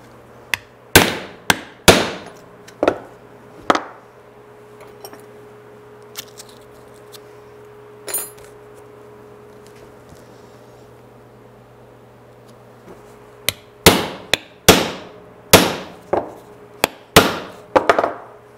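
Sharp hammer strikes on a punch knocking rivet holes through a template for a Chevy square body winch mount, loud close bursts of repeated blows, a quiet stretch with a few isolated knocks, then another rapid run, and no talking.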